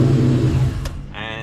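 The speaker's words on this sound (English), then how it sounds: "but it will start the car" A BMW E46 engine running after starting on an AK90-programmed key, a loud low idle rumble close by that drops in level partway through, with a brief click and then a higher whine.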